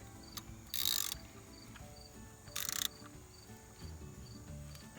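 A socket wrench turns over the crankshaft of a VW/Audi 1.8T engine, letting out two short bursts of sharp, close ratcheting clicks separated by quiet pauses with faint handling noise.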